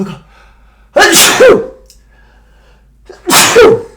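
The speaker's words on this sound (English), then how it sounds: "I feel like I have to sneeze." Two loud, close sneezes separated by a pause of about two seconds, each a sharp burst followed by a breathy tail, with near-silence between.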